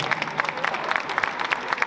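Audience applause at the opening of an inaugural conference, a steady fairly faint patter of clapping from a hall crowd lasting throughout, with no voices over it.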